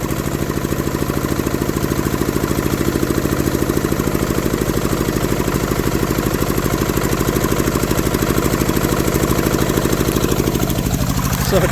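A 1965 diesel-powered Honda motorcycle engine catches on the first pull and runs with wide-open throttle, giving a loud, steady, rapid close-up chugging that holds throughout.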